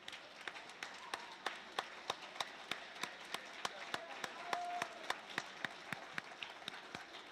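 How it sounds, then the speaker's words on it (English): Audience clapping at a spring career expo, a steady run of sharp, evenly spaced claps lasting several seconds at moderate distance over a low room murmur. "we should all take a moment to clap for GlenX as well for putting on this expo"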